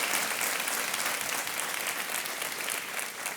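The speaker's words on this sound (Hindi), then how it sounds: "इनको एक बार फिर हम तालियों के साथ आपका अभिनंदन करते हैं।" A studio audience on the game show Kaun Banega Crorepati claps in steady, loud applause that fills the whole stretch without a break.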